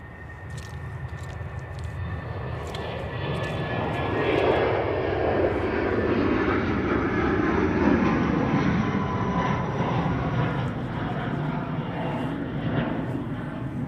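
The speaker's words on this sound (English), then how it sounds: "Shuttle 3 Zulu's just about to take off" Aircraft taking off at Manchester Airport, a loud broad engine roar that swells over several seconds and holds steady as the plane accelerates, heard from a distance with faint background talk.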